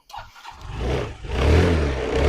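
A Yamaha Fascino 125 scooter starts on its electric self-starter: a brief whirring crank catches at once and settles into a steady, close, loud idle with no voices.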